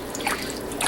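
Water drips and trickles while a wool cloth diaper cover soaks during lanolizing, with soft, close liquid patters and small splashes over a brief stretch.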